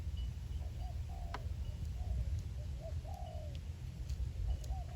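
Decoy dove being tested for a competition, giving a series of soft, separate coos over steady low rumbling background noise outdoors, with a few faint bird chirps mixed in.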